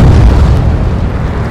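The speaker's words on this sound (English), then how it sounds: "A huge explosion just went off underwater." A huge underwater explosion in the combat flight game Ace Combat 7 rumbles as a loud, deep boom that fills the whole moment and slowly fades.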